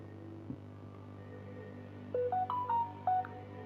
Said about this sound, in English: Sorry, just my phone being annoying right now.